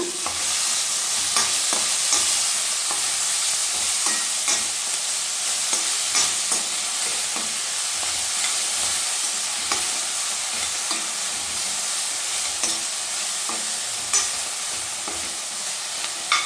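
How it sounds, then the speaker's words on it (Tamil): Drumstick flowers are stir-fried in a pan, giving a steady close sizzle with frequent scraping taps of a spatula as the flowers are tossed. The sizzling runs unbroken and nobody talks. "சேர்த்துட்டு நல்லா வதக்க போங்க"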